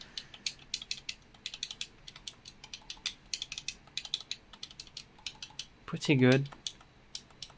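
Rapid clicking of small plastic Xbox controller buttons pressed again and again, close and crisp, with a brief spoken comment near the end.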